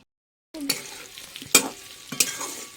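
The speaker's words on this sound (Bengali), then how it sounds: "আলুগুলো ভাজা হয়ে গেছে আমি উঠিয়ে দেবো" Potatoes frying in hot oil in a pan, a close sizzle that starts abruptly after a short silence, with several sharp scraping stirs over it and no talk.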